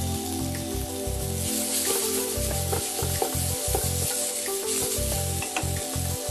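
Carrots and tomatoes sizzle loudly in a hot pan as they are tossed, with a steady frying hiss and scattered clicks and scrapes of stirring, close and continuous with no talk.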